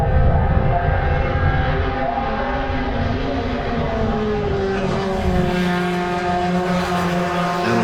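Race cars roar into turn 7 at a Western Australian Sporting Car Club nationals meeting, their engines loud, sustained and overlapping, with the pitch shifting as they brake and change down.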